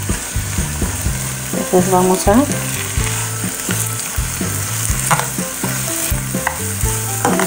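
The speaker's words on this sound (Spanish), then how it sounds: "Vamos a agregarle también un poco de ajo para que se fría junto con la cebolla y los charales" Garlic frying together with onion and small charales fish in a pan for potatoes in green chile, a steady sizzle with repeated stirring scrapes throughout, while a voice speaks briefly over it.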